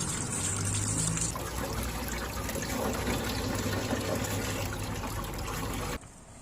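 Running water rinsing a cleaned, filleted fish head, a loud, steady splashing stream that cuts off abruptly near the end.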